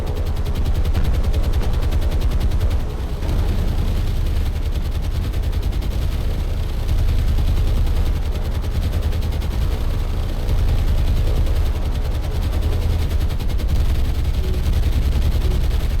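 Sustained anti-aircraft gunfire from warships in the naval video game War on the Sea, aimed at attacking planes: a dense, continuous rattle of rapid shots over a heavy low rumble, steady and loud throughout.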